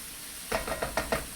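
Cabbage and chicken sizzle in a hot pan, with about five rhythmic stirring scrapes over a steady frying hiss. Close and fairly quiet, with no voices.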